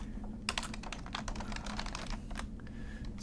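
Rapid clicking of computer keyboard keys as a command is typed, a fairly steady run of close, crisp keystrokes with short pauses, alone with no talking.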